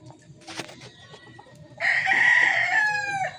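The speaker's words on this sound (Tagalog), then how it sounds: "Ayan, gandang manok." A Mel Sims Black rooster lets out one loud, close crow after a second or so of quieter clucking and background noise.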